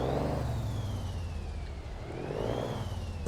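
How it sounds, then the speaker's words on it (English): A Cummins-powered truck engine idles in American Truck Simulator, a steady low drone with a faint rising and falling tone above it, alone and fairly quiet throughout. "The truck's already running."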